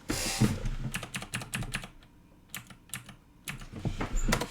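Rapid clattering keystrokes on a computer keyboard come in irregular bursts with short pauses, close and fairly clear, while someone codes an HTML form.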